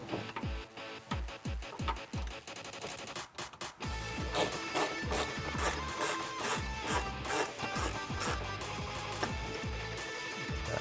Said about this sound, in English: I have my 1/4 inch drive with an extension with my 13 millimeter socket.